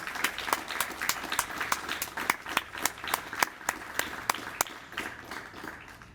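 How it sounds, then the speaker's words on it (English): Audience applause at an Air Force basic military training graduation ceremony, honoring instructors and staff, with crisp, distinct individual claps standing out over a thinner spread of clapping that gradually fades out. "Please join me in giving the military training instructor and our staff a round of applause."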